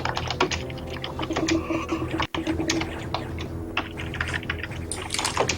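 Fast, continuous clatter of keys on a computer keyboard during a Metroid Fusion speedrun, dense and close, with faint game sounds running underneath.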